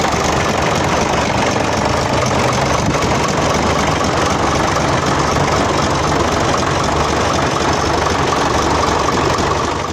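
A truck's diesel engine idles loudly and steadily close by, a continuous rough rumble with a faint knocking texture throughout.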